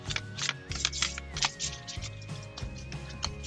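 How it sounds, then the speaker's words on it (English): Heart-shaped tarot cards being shuffled by hand, a quick run of soft flicking and tapping bursts, close and fairly quiet, with a faint tone in the background. "Heart-shaped cards are hard to shuffle."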